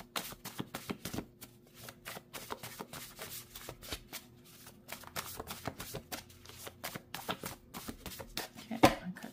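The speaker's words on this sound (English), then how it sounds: "Let's cut the deck." A deck of cards is cut and shuffled close by, giving rapid bursts of riffling and flicking in an irregular rhythm, with a sharper slap near the end and no talking.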